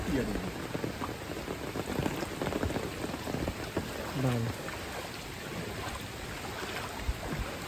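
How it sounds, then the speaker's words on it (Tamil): Heavy rain pours and patters steadily on surfaces in Jaffna during Cyclone Ditwah, a dense continuous downpour close by, with people talking over it. "புயல் அடிச்சா மழை போயிருமண்டு இது ரெண்டும் சேர்ந்து வந்தோன்றது"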